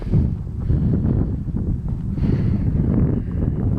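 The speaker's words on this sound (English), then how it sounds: "I'm lost because the wind blows through my hair." Strong wind rushes across an open countryside setting, a dense low roaring buffet that gusts continuously and close, with no voices.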